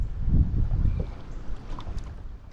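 Wind buffets the microphone on a boat while crappie fishing in about 11 feet of water on a windy day, a loud, steady low rumble that swells and eases with the gusts, with no one speaking.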